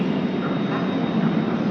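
Kochi metro train in Ernakulam, a steady low rumble of rolling rail carriages holding at an even level throughout, fairly close, with no talk.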